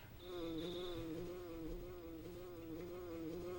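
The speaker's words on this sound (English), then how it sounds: "Do you hear a buzzing that sounds like a bee flying around?" A buzzing like a bee flying around in the EarthBound video game, a faint, steady insect-like drone with a wavering pitch that continues throughout, with no talk over it.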